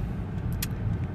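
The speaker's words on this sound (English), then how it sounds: "I'm doing this while driving." A car driving along, a steady low road rumble heard from inside the cabin, fairly quiet, with no voices.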